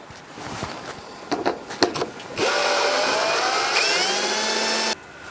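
A power screwdriver drives screws to fix vent grilles onto an insulated garden shed. A few knocks and handling clatter come first, then one steady, loud whine runs for about two and a half seconds and stops abruptly.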